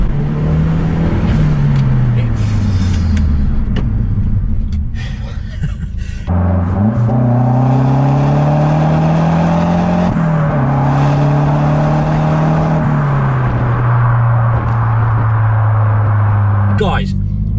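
A Mazda MPS accelerates hard, its engine rising in pitch through the gears with clear drops at each shift, loud and close from inside the cabin.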